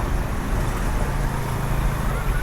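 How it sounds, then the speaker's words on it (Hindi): Heavy road traffic rumbles close by, a dense, steady wash of car, bus and truck engines with no gaps and no voices. "दोस्तों ट्रैफिक इतना ज़्यादा हो गया कि मैं बोल भी नहीं पा रहा हूँ।"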